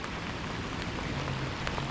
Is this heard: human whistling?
no